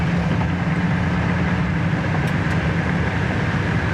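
A 1967 Pontiac Firebird cruising down the road, with steady, loud engine and road rumble filling the cabin continuously and no talking.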